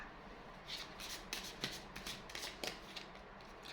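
Tarot cards are shuffled and drawn at close range, with soft riffling and several crisp card snaps scattered across a few seconds, fairly quiet and without talk.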